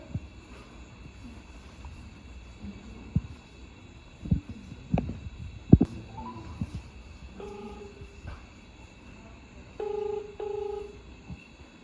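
A telephone handset gives a few short dial tones, followed by repeated ringback tones on the line, with scattered clicks and handling knocks from a quiet indoor room.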